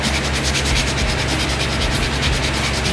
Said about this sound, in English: After sanding with 120 grit,